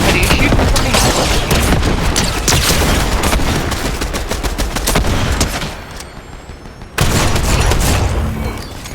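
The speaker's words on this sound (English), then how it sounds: "Somebody shoot from behind." Rapid video-game gunfire in a Fortnite match, dense bursts of shots and booms close by, briefly dropping away before a sharp loud return of firing.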